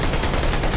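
Rapid burst of automatic gunfire from a zombie enemy in Call of Duty Vanguard, loud, dense and continuous through the whole brief moment.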